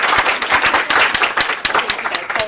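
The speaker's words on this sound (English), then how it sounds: "Round of applause, please, for Emily and team." An office audience claps for a team at the close of a workplace event, a burst of many individual claps that start loud and thin out slightly toward the end.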